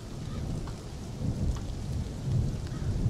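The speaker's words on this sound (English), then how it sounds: "Lots and lots of rain." Continuous downpour in a video game world, a thick low rushing roar of heavy rain with faint surging swells, steady and unbroken, with no one speaking.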